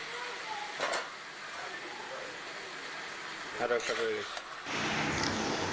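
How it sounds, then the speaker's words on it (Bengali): Pre-boiled taro leaves dropped into a pan of sizzling fried spices, a soft steady frying hiss with a few clinks and a louder burst of sizzle near the end, fairly quiet overall. "মশলা কষানো হয়ে গেছে, আগে থেকে সেদ্ধ করে রাখা কচু শাক দিয়ে দেব"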